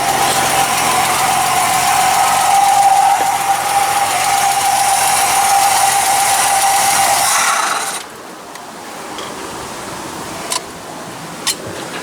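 A 1982 Ford Capri MKIII engine running steadily as it warms up, a loud, constant idle with a high whine that suddenly drops to a quieter hum, followed by a couple of sharp clicks.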